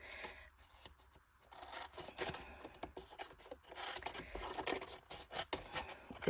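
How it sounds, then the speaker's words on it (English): Scissors snipping and rasping through paper die cuts hanging off a masterboard, a close run of irregular cuts, crinkles and scrapes with no talk. "Got my scissors."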